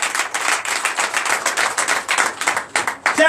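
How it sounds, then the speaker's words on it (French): Dense, continuous applause from a church congregation at a Sunday service, many hands clapping at once in a steady patter without pause. "Donne l'acclamation à Jésus."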